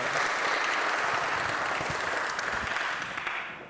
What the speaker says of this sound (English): let's give a round of applause for Nikita Brar